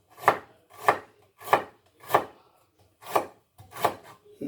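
Ginger being chopped into small pieces with a knife, six evenly spaced sharp chops landing close by with short pauses between them and no talking.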